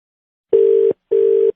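A telephone rings during a comedy radio show, two evenly spaced steady electronic tones, loud and clear with silence between them.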